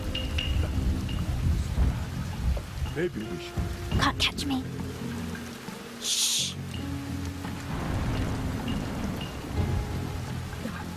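Steady rain pours throughout a night scene in the stealth game Shadow Tactics: Blades of the Shogun, with a brief thunder rumble, characters talking over it and a sharp burst of noise midway.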